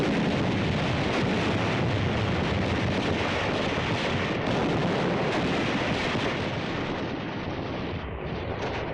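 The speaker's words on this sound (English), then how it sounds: "Our rifle fire is deadly. So are the flamethrowers and the mortars." Dense, loud battle din on Tarawa in 1943: Marine rifle fire, mortars and flamethrowers merging into a continuous roar of blasts and crackling shots with no pauses.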